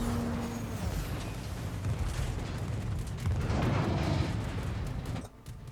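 Anti-aircraft guns blazing in the naval battle game World of Warships, a continuous rumbling barrage of muffled booms and crackling bursts that cuts off abruptly near the end.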